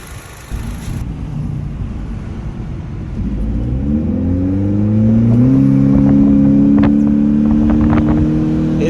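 A 2022 Honda Civic Sport hatchback's 2.0L engine fitted with a K&N Typhoon intake revs up from a low idle-like rumble into a steady, louder climbing drone, with a few faint clicks near the end and no talk.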